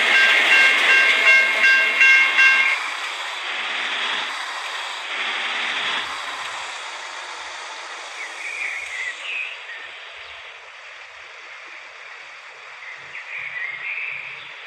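A train passes in a truck off-road driving simulator game: a loud hiss and whistle-like tones at first, then a fading rumble with brief squeals and clanks, and no talk.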